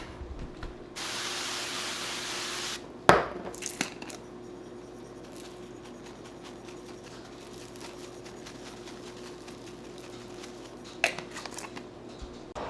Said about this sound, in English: I'm just gonna spray cooking spray on the bread.